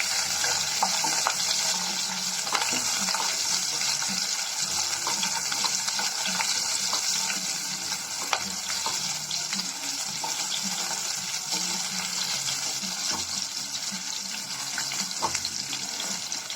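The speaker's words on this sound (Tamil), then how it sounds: "இது கூடவே ஒரு 4-5 பூண்டு சேர்த்துக்கலாம். அதையும் சேர்த்து நல்லா வதக்கிக்கலாம்." Four or five garlic cloves sauté in a pan for a green chilli dish, with a loud, constant close sizzle and frequent clicks and scrapes of stirring throughout.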